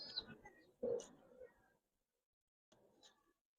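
An old-breed jira-necked pigeon coos in a loft in short, close bursts, the first calls grouped together and a final coo arriving after a stretch of near silence.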